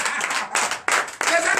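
A congregation at a night deliverance and prophecy church service bursts into loud, dense applause in several surging waves, with voices mixed into the clapping.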